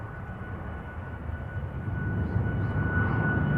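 Jet airliner engines roar steadily during a takeoff roll at Seattle-Tacoma airport, a broad low rumble with a thin high whine that gradually swells in loudness, with no talk.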